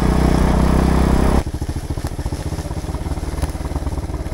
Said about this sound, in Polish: nie ma żadnej waty w wydechu, dlatego furcy